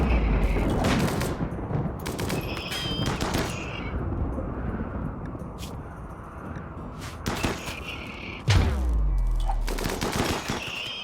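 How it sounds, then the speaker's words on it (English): Video-game grenade blasts boom in several bursts with sharp cracks and rumbling tails, one heavy explosion landing late, amid busy gunfire-like clatter. "let's stop throwing grenades because you're just damaging things now"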